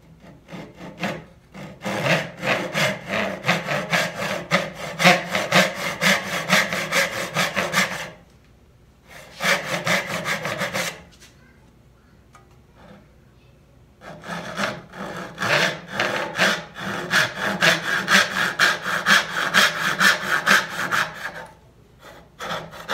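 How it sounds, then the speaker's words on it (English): A dovetail saw hand-cuts wood dovetails for sideboard drawers. Crisp, rhythmic back-and-forth rasping strokes come close and loud in three long runs, separated by brief pauses. "Since I have my dovetail saw out right now, I'm gonna go ahead and just do the other one."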